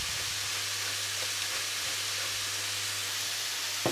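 Zucchini and carrot fry over high heat with salt, pepper and thyme while being stirred, giving a loud, steady, even sizzle with a small clink at the very end.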